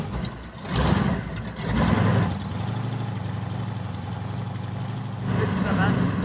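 A massive engine on a road-legal car, spun by compressed gas from two gas bottles mounted in the front, gives a steady, close, low idling rumble that swells a few times.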